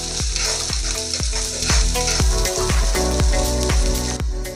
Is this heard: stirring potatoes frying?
yes